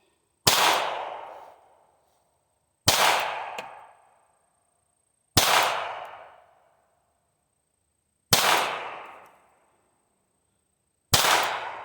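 A Ruger Mark IV target pistol fires five sharp, loud shots at a shooting range, evenly spaced a few seconds apart, each crack ringing out briefly before fading into silence.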